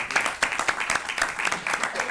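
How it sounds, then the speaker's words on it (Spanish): Brief, fairly quiet applause from an audience at a Catholic brotherhood lecture in Cartagena, a loose scatter of distinct hand claps lasting about two seconds. "Un aplauso para el cofrade."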